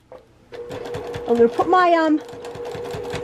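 A sewing machine stitches a zippy travel bag through plastic, running in short mechanical bursts close by while a person talks over it.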